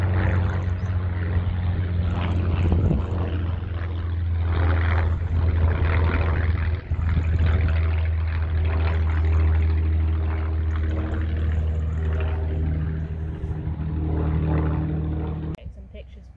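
A Spitfire flies over Goodwood Motor Circuit with a loud, sustained, droning engine roar that stays strong throughout and then cuts off near the end.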